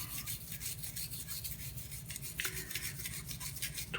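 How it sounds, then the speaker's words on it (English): A toothbrush scrubs the parts of a disassembled S&W M&P 22 Compact pistol during cleaning, giving continuous close bristle rasping in quick back-and-forth strokes. "Take our toothbrush, get in here and brush everything we can get to."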